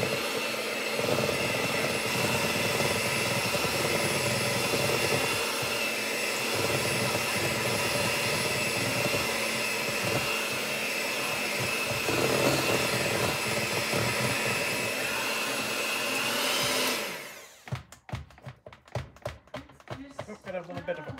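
An electric mixer whirs loudly and steadily, working granulated and brown sugar into batter for about seventeen seconds before cutting off. Clattering handling noises and scattered taps follow.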